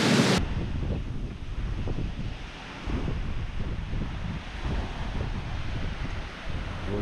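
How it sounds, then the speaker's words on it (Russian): Strong mountain wind gusting in the Caucasus during a hunt, a steady broadband roar with surging gusts that fills the scene, close to the microphone and buffeting it, with no voices. "Вот это ветер."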